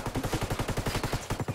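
Rapid automatic gunfire from a Ghost Recon Wildlands PvP match, a steady burst of about fifteen evenly spaced shots, loud and close with no talk.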